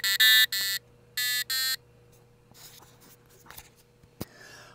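An ESP32 board's buzzer plays a custom melody as five loud, sharp electronic tone bursts, one short and then in pairs, followed by faint clicks and a brief handling tap.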